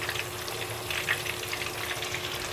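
Pieces of beef chop frying in hot oil in a pan, a continuous dense sizzle with a few brief crackling bursts, close and steady, with no talking.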